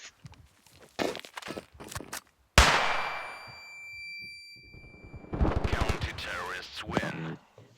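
A sharp, loud gunshot rings out with a long metallic ringing decay, framed by soft footsteps and bursts of talking, game-like.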